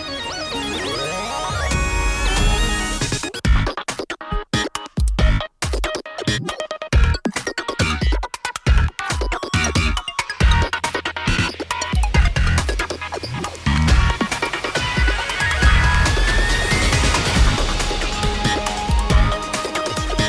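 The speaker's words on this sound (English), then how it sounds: "a whole bunch of orchestral stuff comes in" Dense orchestral music fills the whole stretch, opening with sustained layered tones, then choppy stabbing rhythms, then swelling into a full, busy arrangement.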